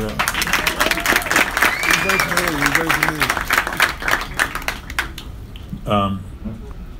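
Audience applause at a boxing press conference, a loud crowd clapping close by with voices talking over it, fading into talk near the end.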